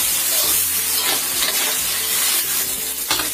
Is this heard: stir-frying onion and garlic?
yes